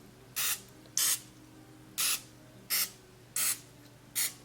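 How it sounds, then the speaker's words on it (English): Cooking spray is sprayed onto a sandwich grill in six short, sharp hissing bursts, evenly spaced and close by, with quiet pauses between them and no talking. "So I'm going to spray it."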